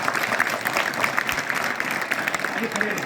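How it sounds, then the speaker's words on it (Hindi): An audience in a lecture hall claps in a brief, steady patter with a voice speaking over it, the clapping moderately loud and continuous. "आपने ताली बजाई ना"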